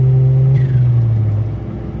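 A 1994 Suzuki Cervo SR kei car's engine drones with a steady, loud in-cabin hum at road speed, its tone easing slightly lower toward the end.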